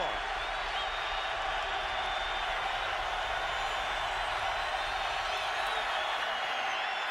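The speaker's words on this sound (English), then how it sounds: "So the crowd into it here" A large football stadium crowd at a 2009 Carolina at Tampa Bay NFL game roars steadily, a broad continuous wash of distant cheering and noise that holds level throughout.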